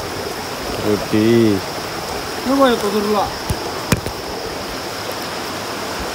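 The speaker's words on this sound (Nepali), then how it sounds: "झर्ना देख्न सक्नुहुन्छ" A waterfall near Bhujung village in rural Nepal gives a steady broadband rush in the background, with people talking nearby over it.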